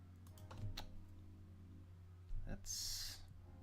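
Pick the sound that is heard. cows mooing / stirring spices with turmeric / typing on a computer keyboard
typing on a computer keyboard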